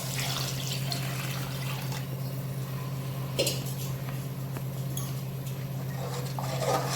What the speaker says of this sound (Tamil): இப்போ வந்து நம்ம தண்ணி சேர்த்துக்கலாம்.